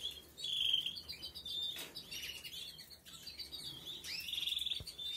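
Caged adult canaries chirping and trilling at close range, bright repeated tweets and short warbling phrases coming in bursts over a quiet room background.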